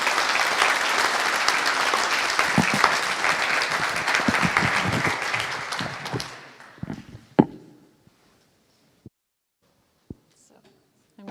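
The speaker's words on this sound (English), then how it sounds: "please give Johan a round of applause for Bad Bots" Conference audience at BSides Munich 2022 applauds the main-stage speaker with sustained clapping and some murmuring, which ends after about six seconds, leaving a quiet room with a few isolated knocks and taps.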